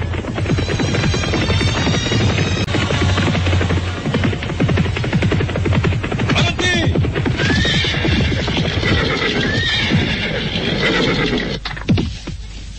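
Cavalry troop horses neighing and whinnying over a dense, continuous bed of hoofbeats and commotion, a loud, busy audio drama effect with no speech.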